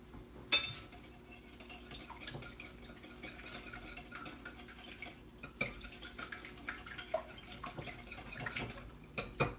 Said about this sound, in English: I'm just gonna whisk it around.